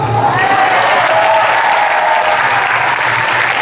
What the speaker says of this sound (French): À chaque fois qu'elle parle français, on applaudit.